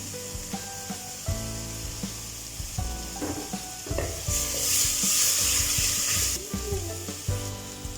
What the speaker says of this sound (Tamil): இப்போ மிளகாத்தூள் சேர்த்து நல்லா பெரட்டி விட்டாச்சு